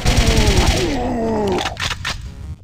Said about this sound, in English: Say hello to the TWX-59 Tesla cannon, the 4th generation of a now 100-year-old design. Let's test it out on someone.